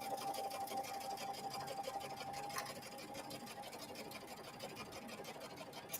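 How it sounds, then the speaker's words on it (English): A sewing machine stitches along the curved edge of a fabric sunglass case, a faint, steady, continuous whirring hum with no breaks throughout. "stitching along that topped curved edge, and then stopping exactly, or as exact as you possibly can when you get back to the side seams"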